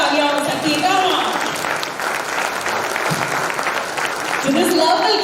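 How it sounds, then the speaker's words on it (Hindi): An audience at a STIHL India event claps loudly and steadily in sustained applause, with a person speaking over the clapping. "और दमदार तालियां हो सकती है"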